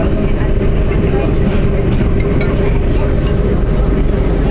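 A train running steadily with a constant low rumble and broadband rolling noise throughout, close and loud, with faint voices of passengers talking over it.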